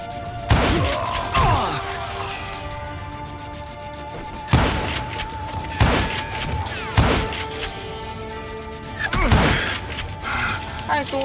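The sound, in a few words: rifle gunfire in a video game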